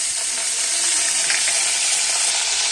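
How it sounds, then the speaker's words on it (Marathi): Whole spices sizzling in hot oil in a pan, a steady dense crackling hiss that holds evenly loud and close across the clip with no talking. "तर अगोदर खडा मसाला तळून घेणार आहोत"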